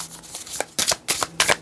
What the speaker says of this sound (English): We just want to get a nice shuffle